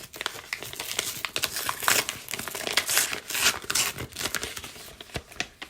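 A baseball card package is pulled from a bubble mailer, giving continuous close crinkling, crumpling and tearing of plastic and paper with irregular rustling bursts and no talking.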